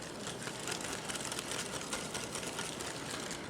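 Fast, even scraping and tapping of a hand whisk beating batter for lemon squares, a close, quiet rhythmic churn that keeps going throughout.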